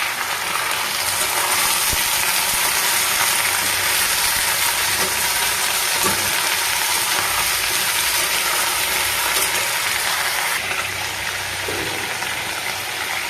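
Greens and vegetables hiss loudly in hot oil with five-spice seeds in a pan, a dense, steady sizzle that holds evenly throughout with a few faint clicks, close and with no talking.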